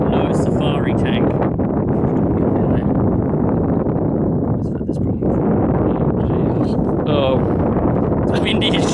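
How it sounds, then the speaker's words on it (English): Strong desert wind roars across an open microphone in the Simpson Desert during a KTM 690 motorcycle trip, a loud, steady broadband rush with gusty swells and no letup for the whole stretch. "Oh, it's windy as shit."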